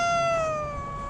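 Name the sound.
cat meowing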